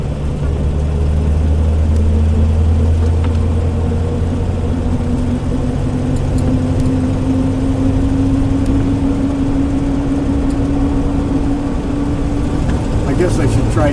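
A car drives along a rural road near a swimming hole, its engine giving a steady low drone close by for the whole stretch, with a slowly rising tone partway through and no talk.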